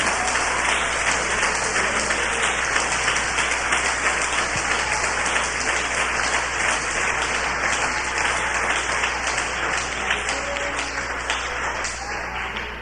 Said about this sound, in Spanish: Dale un aplauso fuerte a Jesucristo.